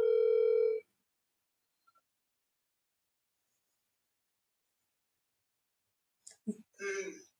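A telephone call being placed gives a steady tone at the start, then a long silence with two faint clicks before a voice comes on at the end.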